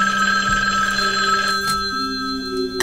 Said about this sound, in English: we received an unexpected phone call.